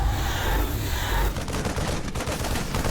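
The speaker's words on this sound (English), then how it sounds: "there are multiple siege tanks just hammering down at AlphaStar on the left side" Siege tanks in StarCraft II pound away in a dense, continuous barrage of heavy artillery blasts, loud and close, with sharper rhythmic cracks breaking through in the second half.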